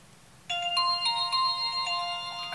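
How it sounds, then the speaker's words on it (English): An Alcatel One Touch 668 phone plays a bright electronic ringtone melody of short repeated notes, clear and close, after a brief quiet start. "And obviously this is your ringtone."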